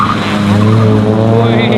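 A race car slides with its handbrake pulled, tires squealing in a sustained loud skid over a roaring engine during a racing challenge.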